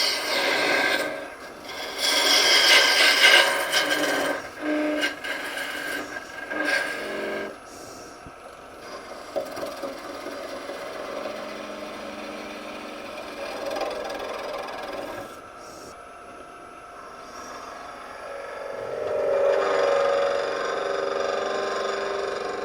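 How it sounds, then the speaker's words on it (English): Peeling cuts with a tool on a branch turning into a goblet on a wood lathe, giving a rough scraping, rasping hiss over the lathe's hum, loudest early on and easing to a softer steady grind. "We'll do a couple of little peeling cuts here."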